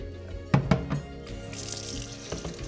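Hurom H101 slow juicer parts rinsed under a running kitchen tap, soft water splashing with a few sharp clunks of plastic parts being handled near the start, then a steady trickle of running water.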